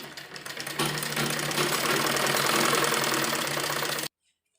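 A sewing machine doubles a seam on a baby frock, making a steady fast mechanical whir that starts up softly, runs loud and continuous for about three seconds, then stops abruptly into silence.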